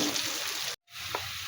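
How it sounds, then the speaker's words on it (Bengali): Potatoes frying in oil with turmeric and salt, a steady close sizzle broken by a brief total dropout partway through, then resuming with a small clink. "আলুটা আগে ভালো করে ভেজে নেব।"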